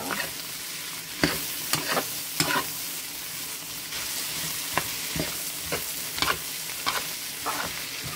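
Leftover rice fries in butter in a pan, a constant moderate sizzle with intermittent spatula scrapes and taps as it is stirred.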